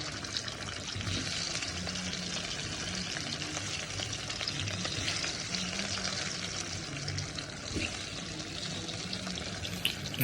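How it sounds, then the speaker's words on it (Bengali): Potatoes frying in hot oil until reddish for mutton biryani, giving a dense, even sizzle and bubbling that continues without break, close and steady. "এরপর আমি এই আলুগুলোকে একটু ফ্রাই করব, একদম লাল লাল হওয়ার মতো একটু ফ্রাই করব"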